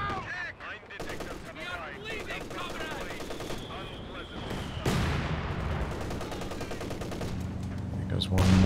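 Battle in the World War II strategy game Company of Heroes 2, with rapid machine-gun bursts and sharp shots, a heavy blast around the middle, and rumbling artillery building toward the end, with a commentator speaking throughout.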